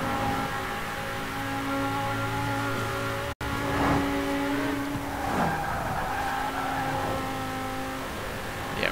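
Engine of a 2013 Audi RS 7 Sportback, a large heavy saloon, accelerating in the racing game Forza Horizon 4, a loud continuous rising drone with gear changes and brief tire squeal, with no talk over it.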